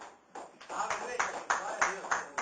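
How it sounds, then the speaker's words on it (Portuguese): Congregation clapping in rhythm during a church service, a steady run of claps growing louder over a couple of seconds, with voices mixed in under the clapping. "palmas para o Senhor Jesus"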